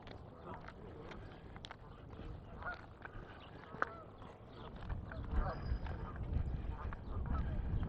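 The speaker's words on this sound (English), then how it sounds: "Geese are still there." Geese honk now and then near a lake on an early-summer walk in Regina, the calls mixed into steady outdoor rumble with footsteps and faint voices nearby.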